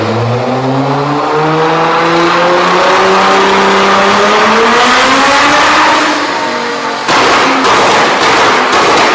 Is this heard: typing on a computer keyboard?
no